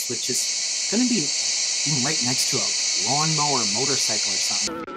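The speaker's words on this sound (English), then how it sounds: "if you can hear in the background the rumbling of cicadas, it's cicada season." A chorus of cicadas buzzes as a constant, loud, high droning hiss behind someone speaking, cutting off abruptly near the end.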